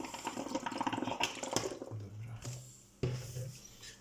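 Water poured into a home coffee machine's tank in a kitchen, a close gurgling splash for about a second and a half that gives way to a low steady machine hum.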